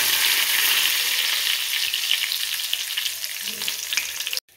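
Cumin seeds and curry leaves sizzle and crackle in hot oil for a chhole dish, a loud, steady hiss with fine popping that cuts off abruptly at the end.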